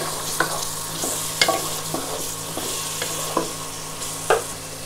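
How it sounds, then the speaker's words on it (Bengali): Spice masala loosened with a little coconut milk is stirred and sautéed in a pan, the base for a Bengali muri ghonto. A soft continuous sizzle is broken by regular scraping strokes of the spatula, about one each second. "এটা জাস্ট মশলাটা কষাতে সাহায্য করবে।"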